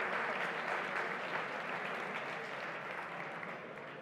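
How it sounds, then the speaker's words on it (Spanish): An audience at a tech talk claps in sustained, dense applause that holds steady, then gradually tapers off near the end. "No sé por qué el aplauso"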